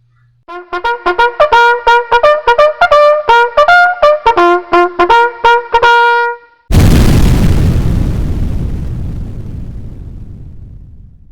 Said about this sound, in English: Finally, at 4:44 a.m., the planned explosion occurred.